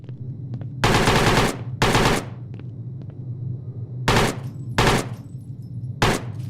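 Bursts of AK rifle fire in the video game PIGFACE: several loud, rapid automatic volleys, each under a second long, with quiet gaps between them and a low ambient hum underneath.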